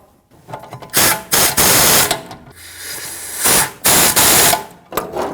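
A power tool tightens the rear brake caliper bracket bolts on a 2014-2019 Toyota Corolla, with loud, close whirring bursts that start and stop several times in quick succession.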